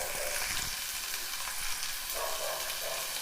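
Tomatoes frying in hot oil in a pan for millet kichidi, a steady close sizzle and crackle with occasional stirring scrapes, no voices.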